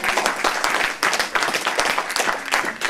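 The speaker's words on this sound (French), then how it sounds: "Applaudissons un peu le Seigneur Jésus." A church congregation claps together during a French-language worship sermon, a dense, steady patter of many hands filling the hall for a few seconds with no voice over it.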